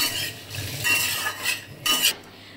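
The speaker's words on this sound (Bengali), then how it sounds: "এখানে লঙ্কা দিয়েছি, একটু সর্ষে ফোড়ন দিয়েছি, দিয়ে পিনাটসগুলো একটুখানি নেড়ে নিচ্ছি" Peanuts are stirred with chilli and mustard seeds in a hot kadai, a scraping, rattling churn of a spoon against the pan in short repeated strokes, close and fairly loud with no talk.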